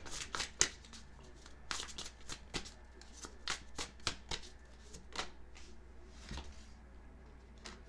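Tarot cards are shuffled by hand in a quiet room, a rapid series of soft riffling snaps and flicks in irregular bursts, close and faint.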